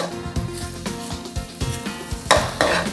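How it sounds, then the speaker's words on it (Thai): Egg fries in oil in a wok over low heat for pad thai, with the noodles pushed to one side. A close sizzle runs under repeated spatula knocks and scrapes, and it turns hissier near the end. No voices. "เติมน้ำมันลงไ ปใส่ไข่ลงไปเลย พอไข่ลงไปแล้วนะครับเคี่ยไข่ให้แตกเลยนะครับ"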